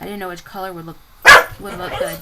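A single loud bark from a dog at home, sharp and close, breaking in between stretches of someone talking.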